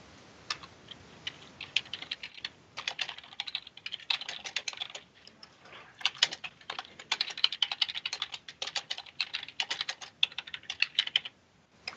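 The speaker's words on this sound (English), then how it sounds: "typing this wrong" Clicks from a computer keyboard come in uneven bursts and short pauses as someone types, close and crisp, with no talking over them.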